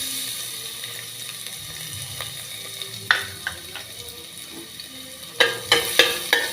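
Garlic frying in olive oil in a pan, a steady soft sizzle with a run of sharp clinking stirs and scrapes of a utensil near the end.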